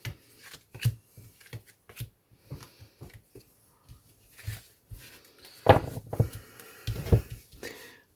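Tarot cards being shuffled for a nine-card spread, heard as a run of short soft riffling and tapping bursts, close and quiet, with a few louder card snaps near the end and no talk.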